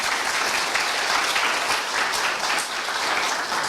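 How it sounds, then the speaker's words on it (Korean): A concert audience applauds after a traditional Korean music performance at a university gugak concert, a dense, loud, continuous clapping that holds steady throughout with no voices over it. "박수 한번 주시죠."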